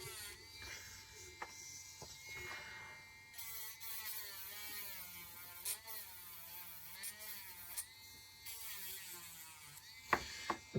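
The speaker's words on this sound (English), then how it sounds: "remove filament, sand it down. It's our" An electric trimmer cuts away 3D-printed filament from a printed part. It gives a quiet buzzing whine whose pitch wavers as it bites into the plastic, with brief clicks and pauses between passes.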